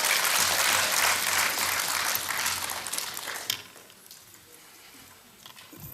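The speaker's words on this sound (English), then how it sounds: "And we can clap once more." Members of a parliamentary audience at the Pan African Parliament applaud loudly for about three seconds, then the clapping thins out and fades to quiet room noise.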